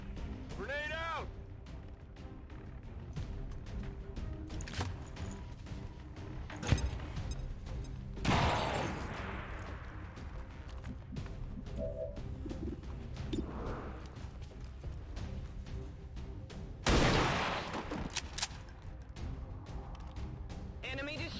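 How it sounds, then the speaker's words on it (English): Grenades explode in the video game XCOM 2, landing as two loud, booming blasts several seconds apart over game voices and background score. "Grenade out!"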